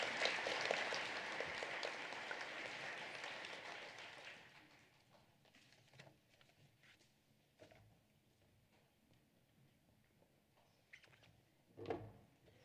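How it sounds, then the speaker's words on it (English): Clapping from a crowd at an elementary school awards ceremony fills the first few seconds, then fades out, leaving a quiet room with scattered small knocks and shuffles. "Please give these students a round of applause for their kindness to their students."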